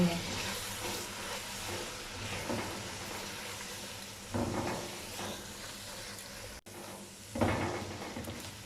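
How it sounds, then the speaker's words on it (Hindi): Powdered spices frying with softened tomatoes in a pan for chana dal, a low steady sizzle with a few bursts of stirring and scraping, fairly quiet and close. "अब इसमें तमाम पाउडर मसाले डालेंगे और इसे 2 मिनट के लिए अच्छे तरीके से भून लेंगे।"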